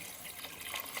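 Water pours steadily into a cooking pot already holding turmeric, chili powder and salt for a pressure-cooker dish, giving a continuous close splashing gush with no talk.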